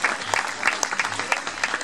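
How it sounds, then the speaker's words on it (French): An audience applauds at a vintage motorcycle gathering as a 1952 bike is presented, a steady dense patter of many hands clapping close and loud for under two seconds, with a few sharper claps standing out. "Et je vous demande de l'applaudir très très fort."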